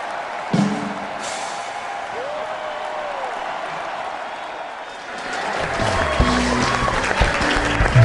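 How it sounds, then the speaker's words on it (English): Awards-show audience cheering and applauding for a rescue squad, a steady wash of clapping and crowd noise that swells louder in the second half, with some music-like tones entering near the end. "One last cheer for the rescue squad!"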